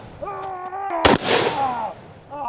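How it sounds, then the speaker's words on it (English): A Doomslayer super shotgun fires one loud, sharp blast in a real-life recreation, followed by a decaying roar, with tonal whining sounds before and after. "I better take them out with my Doomslayer super shotgun"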